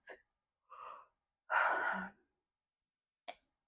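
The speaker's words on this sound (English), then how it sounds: "Let's take a couple of deep breaths. couple of yawns." Slow deep breaths and yawns during a relaxation and stretching session, several soft airy exhalations, one longer and fuller than the rest, close and quiet with no talking.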